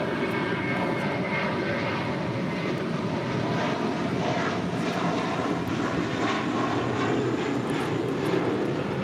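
An American Airlines Airbus A321 jet in Stand Up to Cancer livery at LAX gives a steady, loud engine roar close by, sustained without a break.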